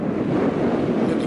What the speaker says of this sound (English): it's getting windy, Bode.